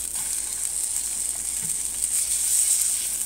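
Steady sizzling of an egg frying in a copper pan without oil, a continuous bright hiss with faint crackles, close and even throughout.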